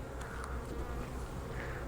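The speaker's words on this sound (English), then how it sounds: "bees are mainly right here" Honey bees buzz in a beekeeping hive during winter prep, a dense, even, faint drone of many insects with a few individual buzzes passing close.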